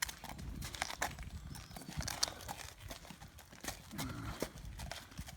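Steady clip-clop of a Shire colt's hooves walking on a hard surface as it is led, close by, with outdoor background noise throughout.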